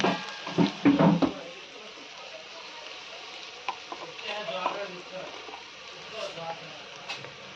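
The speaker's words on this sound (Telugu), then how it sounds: "ఇందులోనే పెసరొడలు వేసేసుకుందాం ఒకసారి కలుపుకుందాం" Moong dal vadiyalu being stirred into a pan with ginger-garlic paste, giving soft scraping stirs and a low frying sizzle, with a few louder clatters early on, then quieter intermittent stirring.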